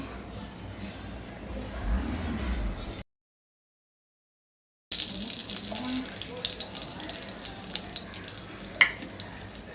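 Whole spices sizzle and crackle in hot tempering oil for a green chicken curry, a hissing fry interrupted by a brief cut, then louder popping and spattering.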